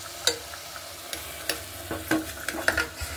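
Chicken pieces fry in hot oil in a pan while being stirred for biryani, with a low background sizzle broken by repeated scraping clicks and knocks from the utensil.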